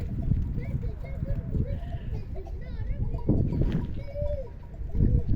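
Sheep and other farm animals at a zoo bleat and call amid clattering hooves and a clanking bell, with people talking nearby throughout.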